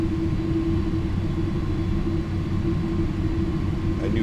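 MD-11 jet engines spooling up in a flight simulator produce a steady, loud rumbling drone with a sustained low whine, continuous and unbroken throughout.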